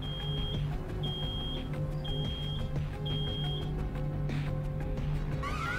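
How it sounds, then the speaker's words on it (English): An electronic alarm beeps in the video game Road 96 in a reception area, sounding as a short, high, repeating tone about once per second with steady game ambience underneath. "Oh no, something's beeping."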